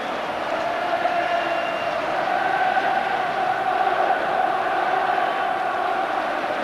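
Nearly 49,000 football fans inside Ibrox stadium at a 1997 Kilmarnock–Falkirk match keep up a steady, dense roar of crowd noise that holds level and fills the whole space.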